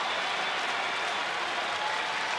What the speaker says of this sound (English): Crowd getting behind Alexi Ogando here in the 7th inning.